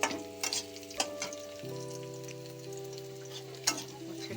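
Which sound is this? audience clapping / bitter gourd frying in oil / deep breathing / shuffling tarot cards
bitter gourd frying in oil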